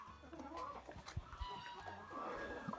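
Chickens cluck softly nearby with a faint rooster crow, in a quiet outdoor poultry yard with low background noise.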